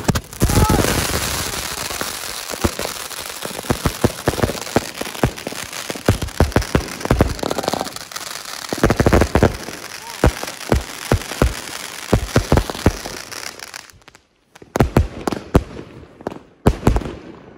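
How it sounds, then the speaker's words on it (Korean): A long, dense barrage of large New Year fireworks in Moscow crackles and pops continuously, loud and close, with rapid bangs tapering into scattered bursts at the end. "이런 큰 폭죽은 나한테 처음 해봐 가지고"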